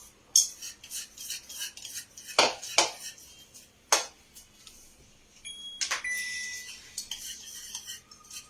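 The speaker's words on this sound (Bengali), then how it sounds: "এবার শুকনো উপকরণগুলোকে একটুখানি মিশিয়ে নিচ্ছি।" A utensil scrapes and clinks against a bowl while dry ingredients for a besan paneer chilla, gram flour with salt and spices, are mixed, in scattered close metallic taps and rattles with no voices.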